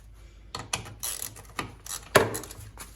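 A driver turns out 13 mm bolts on a 2021 Can-Am Outlander XMR 850 ATV: several short, sharp mechanical ratcheting bursts spaced irregularly, close and fairly quiet, with a brief stronger rattle near the end.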